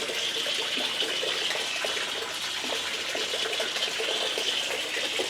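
Water gushes steadily into a bucket from an onboard camping water system for a camp shower, a loud, continuous splashing rush with no talking over it.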